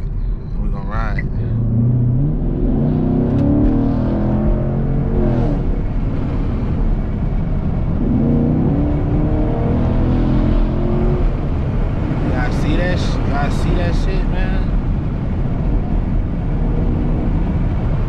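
Chevrolet Camaro 2SS engine droning and rumbling steadily while driving, a low continuous interior roar with a few throttle swells, under almost constant talking from people in the car.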